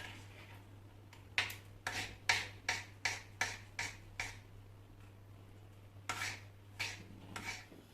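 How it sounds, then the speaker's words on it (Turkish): Quick series of knife cuts chopping sausages on a board, about a dozen crisp chops in a steady rhythm, a pause, then a few more, against a low hum. "hızlıca doğrayalım."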